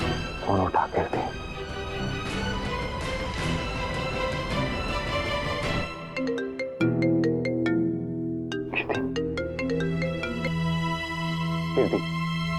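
A phone ringtone plays in a Hindi TV drama scene, a melodic electronic tune repeating for several seconds, loud and clear, with a busier musical passage before it settles into sustained ringing tones.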